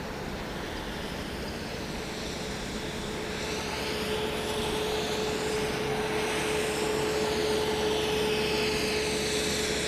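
A small GD-006 Diamond DA62 RC airplane flies steadily overhead with a continuous whining motor drone and a faint high tonal whine. It swells slightly louder as it approaches, and no one speaks.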